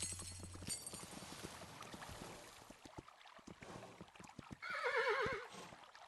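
A horse in the video game Kingdom Two Crowns, Norse Lands setting, gives a short whinny near the end after soft rhythmic hoof clops and light ambient game sounds, fairly quiet overall.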